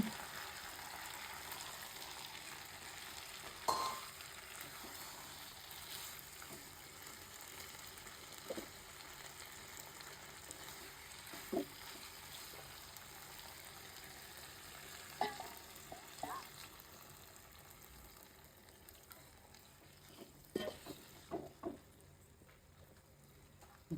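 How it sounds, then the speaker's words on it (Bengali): Mixed vegetables sautéing in a pan for a vegetarian dish, a steady low sizzle running throughout with scattered scrapes and taps of a spoon stirring, fairly faint and without talk. "সবজিটা কষানো হয়ে গেছে"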